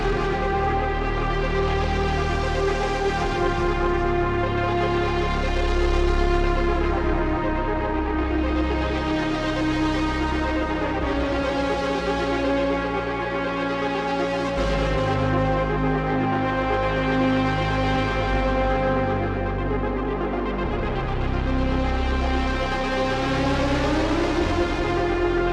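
A continuous performance from one preset on a Haken ContinuuMini synthesizer, with dense layered tones and a low bass underneath. It holds steady and loud across the whole stretch, with a slight swell near the end and no voices.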